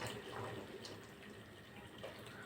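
Water poured from a pot into a cooking pot on a kitchen stove, a steady faint splashing and gurgling stream that runs continuously, quiet and close.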